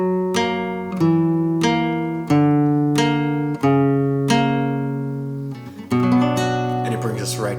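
Fingerstyle acoustic guitar with the thumb picking bass notes while the index finger plucks the third string in between, a slow ringing pattern, close and alone.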